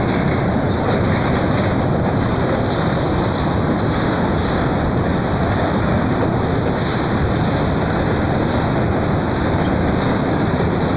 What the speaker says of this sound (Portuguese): porque o trem está indo embora